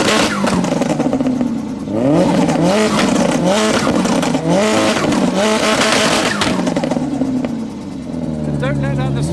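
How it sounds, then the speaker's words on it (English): Japanese performance cars rev hard at a crowded car show, engines surging and falling in repeated bursts with sharp blips, loud and close, while people talk over the din. "Turbo sounds."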